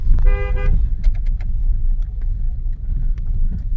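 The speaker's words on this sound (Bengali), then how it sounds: "সবুজ রঙের একটা হাইলাক যেটা বেরোচ্ছিল" A green Toyota Hilux pickup pulling out through a narrow lane, a short car horn toot near the start followed by steady close engine rumble.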